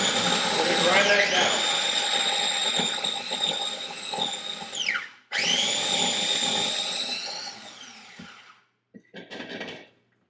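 Electric grinder grinding, a loud, close, continuous whine that slows and rises in pitch, cuts out briefly, then spins again for several seconds before stopping, followed by a few short rattles.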